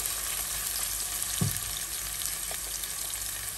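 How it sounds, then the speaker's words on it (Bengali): Onions fry lightly in a pan, a steady close sizzle with a brief stir or scrape partway through, no voices. "পেঁয়াজটাকে আমি লাল করে ভাজবো না, হালকা ভেজে নিব।"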